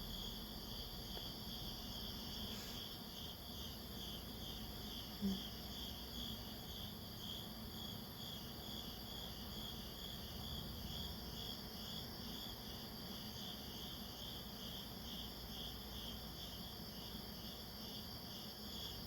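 Crickets chirp continuously in a fast, even pulsing trill, fairly faint and steady throughout, with a soft background hum from a running fan and no voices.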